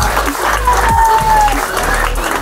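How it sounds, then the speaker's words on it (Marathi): A crowd applauds in a continuous burst of clapping, with a voice and some whistling tones mixed in over it. "चौघीसाठी जोरदार टाळ्या."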